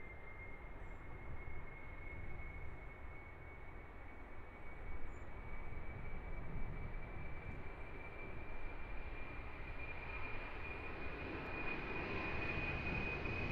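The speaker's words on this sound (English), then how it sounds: "Here we go then, DHL A300 freighter," A DHL Airbus A300 freighter takes off at Luton Airport with a broad, rising jet roar and a thin steady whine, heard from fairly close and building gradually in loudness with no talk.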